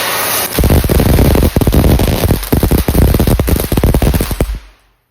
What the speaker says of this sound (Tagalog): Kaya, may paputok na naman.